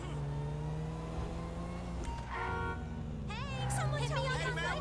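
Car engine driving in GTA 5, a steady hum with shifting pitch as it revs, horn-like tones and in-game voices over it.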